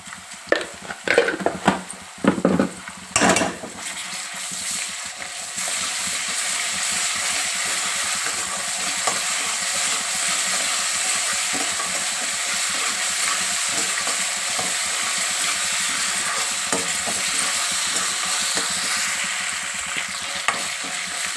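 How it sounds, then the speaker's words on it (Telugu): Ginger garlic paste with onion frying in a pan for a fish curry: a continuous close sizzle with a few loud clanks and scrapes of a spoon stirring at first, then steady frying alone. "జింజర్ గార్లిక్ పేస్ట్ కూడా మంచిగా వేగింది కదా."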